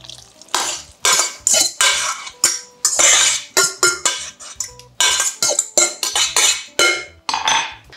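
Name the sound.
mixing dry pumpkin bread batter in a bowl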